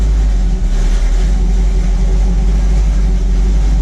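A cammed Chevrolet C10 truck engine running steadily, a loud, close, continuous low rumble with no talk over it.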